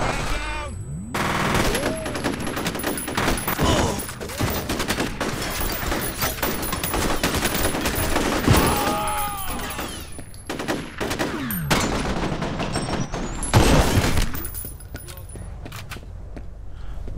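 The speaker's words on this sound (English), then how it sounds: "Big firefight." A dense firefight in F.E.A.R. with sustained bursts of automatic gunfire and explosive booms, loud and close, surging and easing over the stretch; a voice talks intermittently beneath the shooting.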